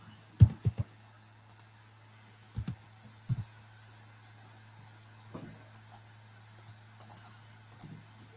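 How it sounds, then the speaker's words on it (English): Sparse, faint clicks and short bursts of key taps come from a computer keyboard in a quiet room with a low steady hum, the presses irregular and spaced apart. "So I keep typing and I select"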